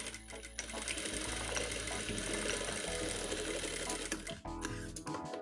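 Sewing machine stitching a hem on fabric for bridal aari-work bangles: a close, steady whirring run of rapid needle strokes that stops briefly near the end, then restarts.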